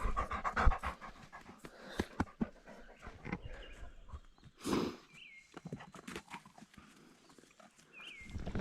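A dog pants rapidly up close at a riverside campsite in the morning. The quick, breathy bursts come in uneven spurts with a few brief pauses and some light scuffling taps, and no one speaks.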